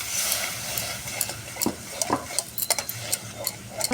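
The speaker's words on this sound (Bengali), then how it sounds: "এটা ভালো করে আমি কষিয়ে নেব।" Spice paste for paneer kofta sautéing in a pan, a soft steady sizzle with scattered ticking spatula scrapes and taps, close and moderately quiet, no voices.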